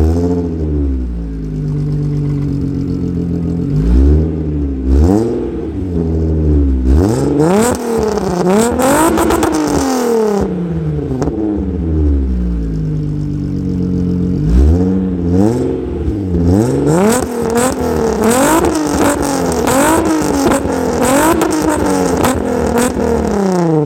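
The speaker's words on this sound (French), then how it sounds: "Je vais vous filmer le son du démarrage et la ligne, vous allez kiffer." Volkswagen Golf 3 with a VR6 engine starting up, then revved repeatedly, the engine note rising and falling in several loud sweeps, close by with no one talking.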